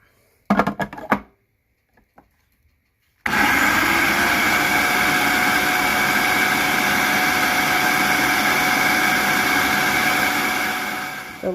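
A kitchen food processor whirs loudly and steadily for about eight seconds after a few brief clatters, blending ingredients for a chicken laksa broth, then winds down at the end.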